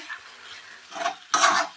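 Green banana mash being stir-fried in a wok: two short scraping strokes of a spatula against the pan over a faint sizzle, the second louder and closer.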